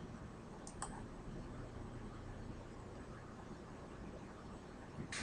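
Computer mouse clicks on a desktop while working in OPNET network simulation software: a quick double click near the start and a single click at the end, crisp and close over a steady hiss.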